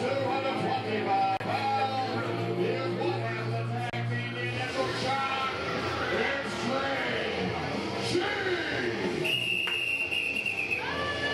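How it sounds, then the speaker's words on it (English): A shrill whistle blown repeatedly at a wrestling event during a ring entrance, cutting over loud music and crowd noise, with a long bright blast near the end. "Here's Uncle Wayne with that annoying whistle."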